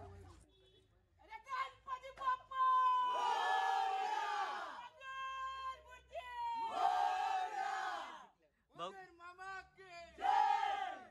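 Elders at a Konkan Ganesh festival roar the Ganpati Bappa chant together, a lead voice calling out and the loud group answering in repeated surging bursts.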